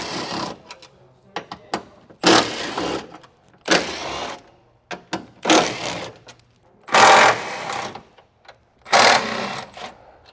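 A ratchet loosens 12 mm bolts from a strut tower brace on a 350Z, with five loud bursts of rapid clicking separated by short pauses and softer knocks.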